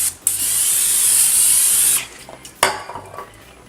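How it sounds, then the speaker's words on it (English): A steady hiss of cooking spray on a cornbread dressing pan for about two seconds, then a short clank as the pan is set down. "We're gonna spray the pan real well so it'll come out easily."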